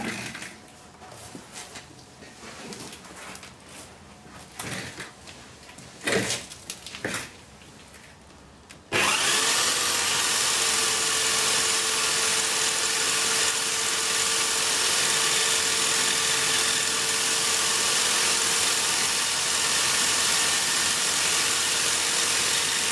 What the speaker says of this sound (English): So I'm using those now to polish up, to put a polish on the stone, and I'll be starting with 1000 grit.